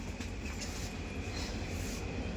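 A train runs steadily on the journey from Mangalore Junction to Ernakulam Junction, a continuous loud rumble of wheels and carriage noise with no pauses.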